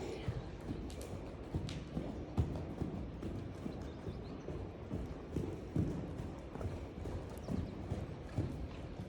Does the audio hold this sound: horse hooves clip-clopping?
yes